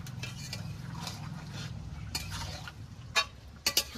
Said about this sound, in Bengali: এবার নেড়ে চেড়ে তরকারির সঙ্গে জিরে বাটাটা মিশিয়ে নেব।